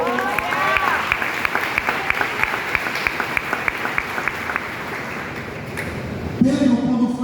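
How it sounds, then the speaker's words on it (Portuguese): Church congregation applauding during a Portuguese-language worship sermon, a steady dense wash of clapping lasting several seconds, with a voice breaking in near the end. "Pode aplaudir o Senhor."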